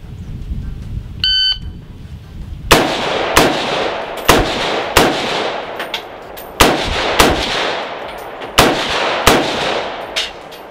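Rapid gunfire from a scoped 7.62 rifle during a timed shooting drill on a range: a brief electronic start beep, then a string of sharp, loud, closely spaced shots with echoing tails, no talking.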